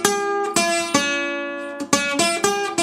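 A guitar plays one measure of a Delta blues tune, with about seven sharply plucked notes in a steady, uneven rhythm that ring closely and clearly with no voice.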